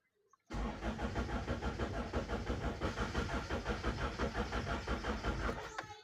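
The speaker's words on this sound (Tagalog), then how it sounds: "Subukan natin start kung aandar pa siya." A freshly overhauled car engine cranks steadily for about five seconds in a rapid pulsing rhythm without catching, then stops. The sound is loud and close, with no voices.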